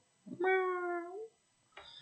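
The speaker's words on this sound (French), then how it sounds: "Ça, c'est mon chat" A single clear cat meow, drawn out and tonal, followed by a shorter, softer second meow after a brief pause.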